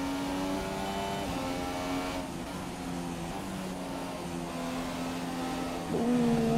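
F1 racing car engine in the F1 2017 game during qualifying at the Austrian Grand Prix, a loud high-pitched whine that holds steady, eases as the revs shift, then rises again near the end.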